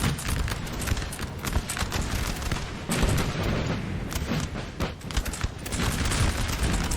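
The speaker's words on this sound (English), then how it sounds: "Artillery going to try to harass as much as they can this French advance" Artillery and musket volleys thunder across a Napoleon: Total War battlefield as cannons harass a French advance at early morning, with dense, continuous rumbling booms and crackling shots at close range and no voices.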